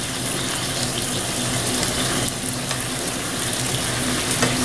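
Beef sizzles as it sears in a hot pan for stir-fried beef with broccoli, a constant loud crackling hiss with no pauses.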